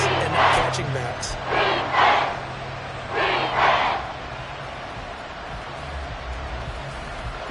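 Roaring stadium crowd of Seahawks fans during a red-zone third down against the 49ers, a steady wash of cheering that swells in waves under a commentator's voice before easing off.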